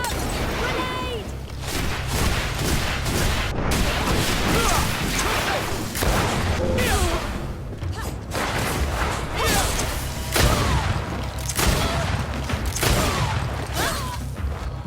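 A grenade blast and gunfire erupt during a combat scene in the video game GreedFall, with dense, continuous loud crashes, thuds and shots over a busy soundscape and voices shouting over the battle.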